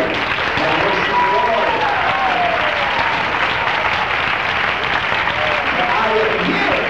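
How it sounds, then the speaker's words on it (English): A church congregation at an Apostolic preaching service claps loudly and continuously throughout, with faint voices rising through the steady applause. "Let's clap again."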